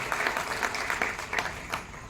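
An audience at a police public meeting in Bhind applauds to welcome police staff, a dense burst of clapping that fades over about two seconds.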